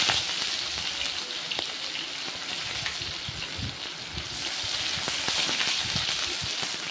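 Dry red chillies, cumin seeds and onion frying in hot oil, giving a steady, close sizzle and crackle that holds throughout and swells slightly toward the end.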